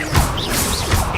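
The Incendio fire spell cast in Hogwarts Legacy, a short loud whooshing burst with crackling impacts, heard alone with no speech.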